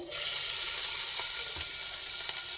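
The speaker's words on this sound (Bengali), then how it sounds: "অল্প পরিমাণে আদা দিয়ে দিলাম আদাটা অল্প করে একটু ভেজে নিচ্ছি" Ginger fries in hot oil for a fish recipe, making a continuous bright, hissing sizzle that stays loud and even throughout, close by with no voices.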